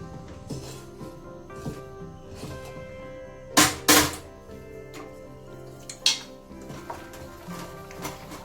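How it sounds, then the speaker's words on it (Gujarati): Khichu dough for khichiya papad is stirred in a pot, with soft scraping and utensil clinks against metal, a few sharp knocks standing out clearly in a quiet kitchen. "જો આ રીતે એક જ લેયરમાં આપણે હલાવવાનું છે"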